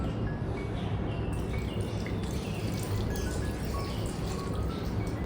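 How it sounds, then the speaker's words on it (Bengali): A bowl of cow's milk is poured into a pan of cooking shukto, a Bengali mixed-vegetable dish, giving a steady, close, wet, liquid rush and sizzle that continues throughout without pause. "এরপর এক বাটি দুধ দেব এই দুধটা গরুর দুধ"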